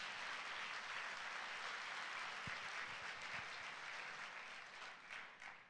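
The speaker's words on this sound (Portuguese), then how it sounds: "dá um aplauso aí ao Senhor Jesus" A church congregation claps during a Sunday worship service, steady, dense applause filling the room for several seconds and tapering slightly at the end, with no talk over it.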